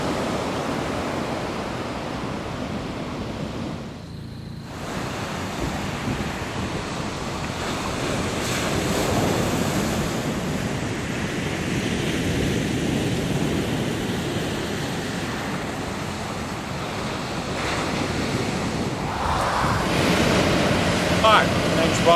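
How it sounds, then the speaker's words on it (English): Ocean surf breaking on the shore after a storm, a steady broadband wash of waves with wind buffeting the microphone throughout. "There's still a little bit of wave activity."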